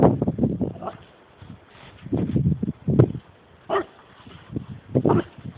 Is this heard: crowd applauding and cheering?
no